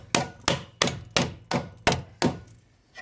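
Seven heavy metallic hammer blows strike a seized brake part on a car during late-night brake work, evenly spaced about a third of a second apart, each ringing briefly before the next hit, close and loud.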